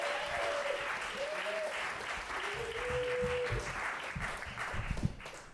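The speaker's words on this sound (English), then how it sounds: "give a huge round of applause for Stuart Jacobson." Audience applause at a live comedy storytelling show greets a comedian, a dense steady wash of clapping with a few whoops and cheers rising over it.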